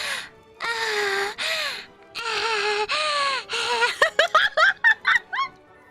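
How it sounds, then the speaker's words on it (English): A played recording of mating turtles gives a series of drawn-out, wailing squeaky calls, then a rapid burst of short honking chirps toward the end, fairly close and with no one talking over it. "That's what turtles sound like when they meet."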